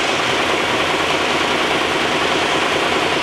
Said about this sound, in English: This is an actual dual stage motor that's 15 or 30 horsepower.